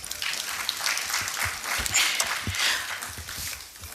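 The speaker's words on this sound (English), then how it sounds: "Let us give them another round of applause, please." Audience applause in the Pan-African Parliament chamber, a dense patter of many hands clapping at moderate level, fairly even throughout with slight swells and no speech.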